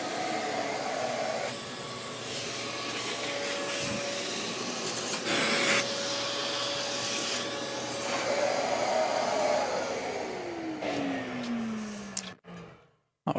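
A Shaper Origin handheld CNC router spindle cuts wood with a steady, close whine and rushing airflow, then near the end the spindle lifts, winding down and dropping to quiet.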